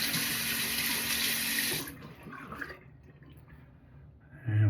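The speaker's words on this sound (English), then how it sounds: "give it a good rinse out" A razor rinsed under a running tap: steady, fairly loud water rush for about two seconds, then the flow stops, leaving quieter drips and handling noises before a brief splash near the end.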